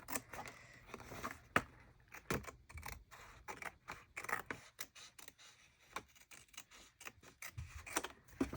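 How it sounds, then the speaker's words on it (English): Big scissors cutting paper for a journal spread, a quiet close series of crisp snips and rustling slides in an uneven rhythm. "So I'll use my big scissors on this."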